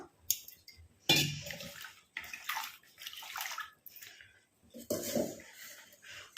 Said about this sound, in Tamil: இப்போ இதில் வந்து தண்ணி ஊற்றி நம்ம வாஷ் பண்ணிட்டு எடுத்துக்கலாம்.